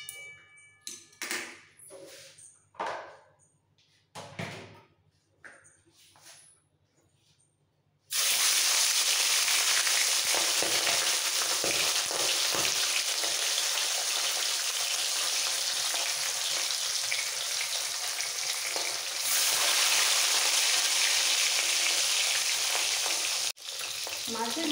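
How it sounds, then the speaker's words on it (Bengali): Fish heads frying in hot mustard oil for a murighonto: a few seconds of quiet utensil clatter, then a sudden loud, steady crackling sizzle that fills the rest of the clip. "তেল ভালোভাবে গরম হয়ে গেছে, এবার মাছের মাথাগুলো ভেজে নেব।"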